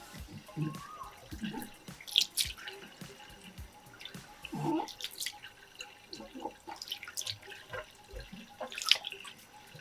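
Household cleaning with plain water gives scattered drips, splashes and trickles at close range, irregular and fairly soft, with occasional speech in between.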